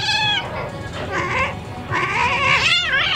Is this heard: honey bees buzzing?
no